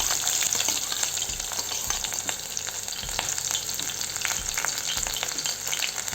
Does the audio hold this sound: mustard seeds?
yes